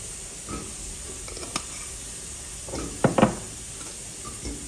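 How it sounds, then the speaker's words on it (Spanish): Onion and garlic frying in a pan with salt and pepper, a steady soft sizzle and hiss under a few scraping stirs, two sharper scrapes standing out near the end. "Vamos a revolver muy bien."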